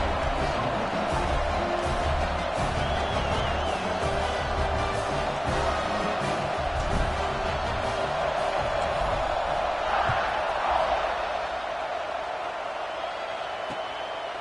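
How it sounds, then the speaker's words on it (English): Stadium crowd buzzing in a PS5 football video game, a dense, steady roar of many voices after a score, continuous throughout with swelling cheers. "this crowd is buzzing after that last score"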